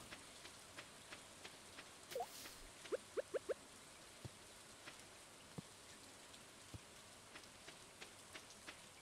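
Light rain falling in a video game, soft patter with scattered drips and a few sharp bright chirping bird calls mid-way, faint and sparse.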